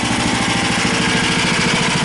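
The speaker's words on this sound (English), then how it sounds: "stop the engine here." The engine of a homemade band sawmill runs steadily close by, a throbbing mid-pitched drone with a regular pulsing beat and no talking.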